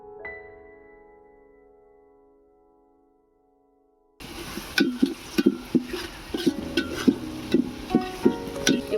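Chopped onion sizzles and fries in hot mustard oil in a cooking pot for chicken curry, a steady crackling hiss with frequent sharper pops and stirring knocks. It starts abruptly after a few seconds of a fading, ringing tone.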